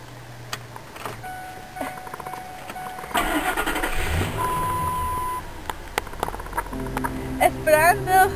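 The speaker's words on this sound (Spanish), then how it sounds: "Toma tus llaves y arranca el carro." A car engine cranks and catches, then runs at a steady idle for several seconds at close range, with a few short beeps and some background voices.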